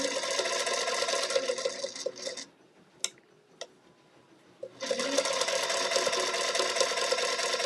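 A sewing machine stitching along the edge of fabric runs loud and steady with a dense mechanical whir, stops for about two seconds with only a couple of sharp ticks, then starts again at full speed.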